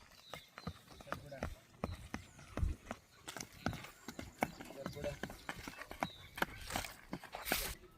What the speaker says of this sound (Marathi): घोडा काय करतो आणि कसं करतो तर मी हे तुम्हाला दाखवते